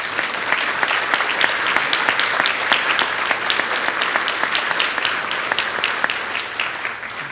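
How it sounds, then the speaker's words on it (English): A seated audience at an arts awards event gives a sustained round of applause, with dense clapping punctuated by some sharper individual claps, holding steady before easing slightly at the end. "If you could give them a round of applause."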